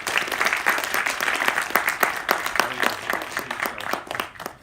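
Audience applause at a graduation ceremony: a dense, steady burst of many hands clapping at once, fairly close, sustained for several seconds before easing off slightly at the end.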